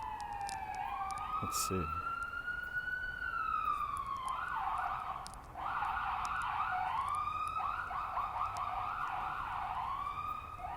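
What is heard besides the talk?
siren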